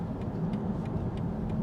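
A car accelerates with a steady, loud engine drone that stays even and close throughout, joined by faint periodic ticking clicks above it; no talking is heard.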